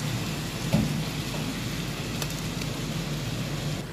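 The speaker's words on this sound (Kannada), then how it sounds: "ಓಹೋ, ಮಳೆ ಬರ್ತಾ ಇದೆಯಲ್ಲಪ್ಪ" Rain falls steadily in Singapore, a soft, even hiss of drops with a faint tap or two, heard from a distance with no talking.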